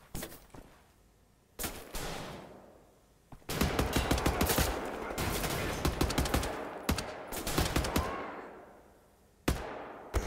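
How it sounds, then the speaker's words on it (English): Enemy gunfire in the shooter game Wolfenstein: The New Order, with loud bursts of automatic rifle fire and sharp shots rattling in rapid clusters, quieter gaps between volleys and a final blast near the end. "They just insist on shooting at me."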